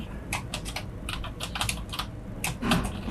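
Fingers type code on a computer keyboard in quick bursts of close, crisp key clicks, with short pauses between clusters and a low background hum.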